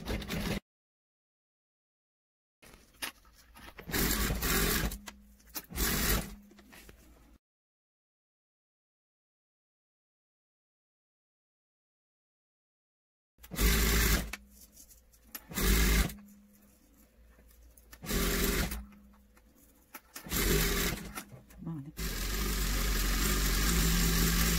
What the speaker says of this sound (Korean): 이제 이렇게 사면을 다 돌아가면서 눌러서 스티치 다금질을 할 거예요.